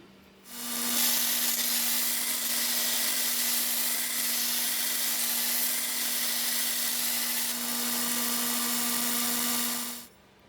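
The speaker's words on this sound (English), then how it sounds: "Next I'm going to go to belt grinder" A belt grinder deburring a metal downspout anchor makes a steady, continuous grinding whine of metal against the abrasive belt, holding constant for about nine seconds before cutting off.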